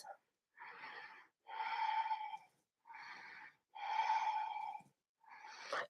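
Deep yoga breaths drawn in and let out slowly, close and quiet, in alternating long inhales and exhales with short silences between, with no talk over them.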